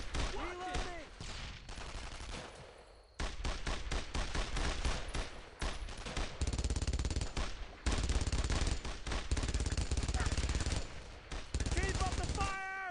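Rapid machine-gun fire from the World War II shooter Brothers in Arms: Road to Hill 30 rattles in sustained bursts through the clip, close and loud, with brief shouted voices mixed in near the start and end.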